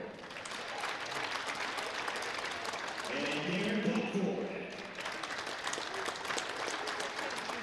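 Applause at a men's basketball game honoring the 1982–84 Capital teams, a steady crowd clapping across the clip, with an announcer speaking over it.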